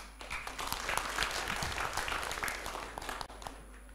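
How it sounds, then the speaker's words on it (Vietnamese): Delegates at a Ho Chi Minh City cardiology association congress give a round of applause, moderate steady clapping with a few sharper individual claps standing out, no talking over it, tapering slightly near the end. "xin đại hội cho một tràng pháo tay"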